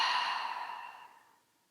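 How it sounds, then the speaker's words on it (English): A long, deep exhale through the mouth during a yoga breathing exercise, a breathy rush starting loud and close and fading away over about a second and a half. "let's take one more inhale here. And exhale completely."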